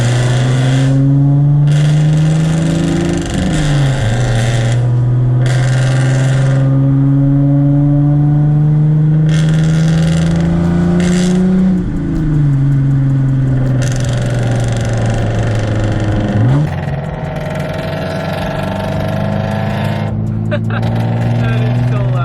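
An FRS car with a straight-pipe exhaust revs hard and loud, its droning note climbing and dropping in repeated sweeps, with people talking over it.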